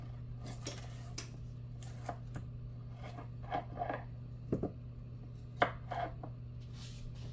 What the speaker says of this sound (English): Next up, I think we're going to try cutting it like this.